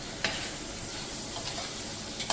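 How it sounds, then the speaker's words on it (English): Vegetables shallow frying in a big container while being stirred, a steady soft sizzle with a few sharp clicks of a utensil against the pan, heard alone at low volume. "so the shallow frying of vegetable is faster"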